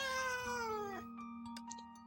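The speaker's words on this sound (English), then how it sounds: "Hey, why is there a cat?" A single drawn-out cat meow from the video game Honkai Impact, its pitch sliding downward before it fades, followed by a few soft clicks.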